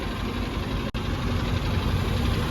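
A lorry engine idles with a steady low rumble and vibration from inside the cab, continuous apart from a brief dropout.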